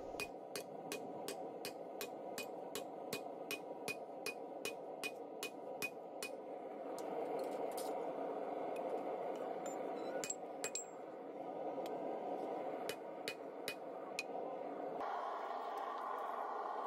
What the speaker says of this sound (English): I'll use a large drift to drift the hole from that narrow rectangle out to a round hole.